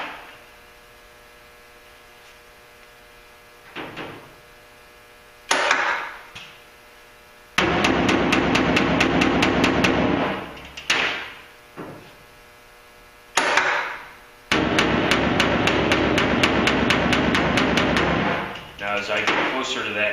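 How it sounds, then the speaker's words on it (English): An AIM pneumatic panel beater hammers sheet metal near a hard seam in loud, rapid machine-gun bursts of impacts, separated by short pauses and quieter air hiss. "you kind of want to use that hammer as squarely as possible"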